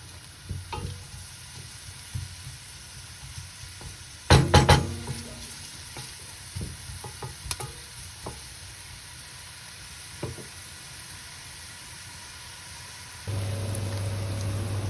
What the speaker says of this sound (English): once the olive oil warms up, we're gonna add our onions first. And we're gonna soften them up for about a couple of minutes only